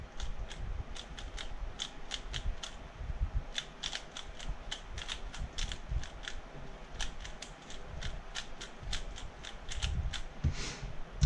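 Rubik's cube turned rapidly through a 31-move solution, a continuous run of fast plastic clicks and rattling twists, close and steady for the whole stretch with no talking.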